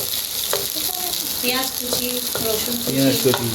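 Whole garam masala spices frying and sizzling in a pan for a chicken lunch dish, with a steady hiss and scattered clinks and scrapes of a stirring utensil against the pan.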